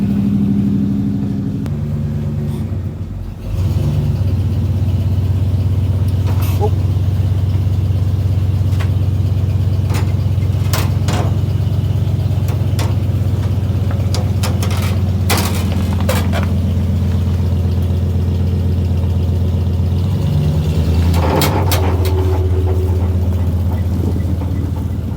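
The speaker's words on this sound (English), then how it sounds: "Dual exhaust, awesome." A van with dual exhaust idles steadily after starting from storage, a loud, even low rumble throughout with a few faint clanks and knocks on top.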